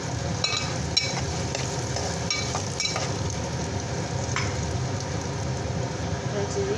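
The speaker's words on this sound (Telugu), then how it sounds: "ముందు ఆనియన్స్ వేసేస్తున్నమాట." Two onions frying in oil in a pan for a Telugu curry, a steady crackling sizzle with scattered stirring scrapes and taps, while someone speaks briefly over it.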